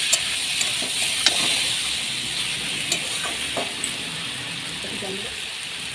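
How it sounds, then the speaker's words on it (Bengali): Tomato and prawn mixture, with green watermelon rind, sizzles in a frying pan while being stirred, a steady close hiss with scattered light scraping taps. "এবার এটাকে মিশিয়ে নেবো ভালো করে।"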